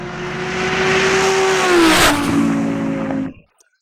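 Audi A3 with four-wheel drive accelerating hard in a drag race against supercars, a loud, close engine roar rising steadily in pitch, briefly shifting at about two seconds, then cutting off abruptly near the end.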